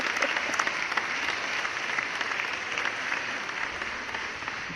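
An applause sound effect plays during a podcast episode, giving a continuous, even wash of crowd clapping at moderate volume with no voices over it.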